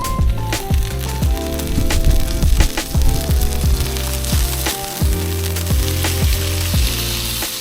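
A rib eye steak sizzles on a Blackstone griddle with garlic butter and beef tallow, a loud steady frying hiss with scraping spatula clicks and taps throughout.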